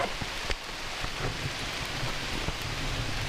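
Rain falls steadily during a hike at Forestville Mystery Cave State Park in Minnesota, a dense, even hiss close by with faint pattering drops and no voices.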